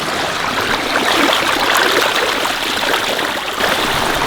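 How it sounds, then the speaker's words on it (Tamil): Fish being washed clean in an outdoor stream while camping, with a steady rushing, splashing wash of running water that fills the scene throughout, fairly loud and close, with no talk. "மீனை சுத்தமாக கழுவி எடுத்தாச்சு."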